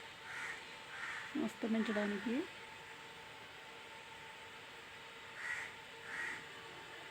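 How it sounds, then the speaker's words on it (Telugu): Crows cawing outdoors in the evening at sunset, several harsh caws from nearby birds, a few calls at the start and more near the end, with someone speaking briefly between them. "పక్షులు అయితే మాత్రం, అంటే కాకులు అయితే మాత్రం అరుస్తున్నాయి."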